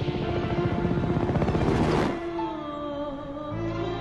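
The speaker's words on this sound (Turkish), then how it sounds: "Başımızın üstüne geldiğinde gördük ki helikoptermiş." A helicopter passes overhead in an Iranian war film, its rotor thudding in a loud rapid chop that builds and then abruptly drops away, leaving lower engine drone and tonal background.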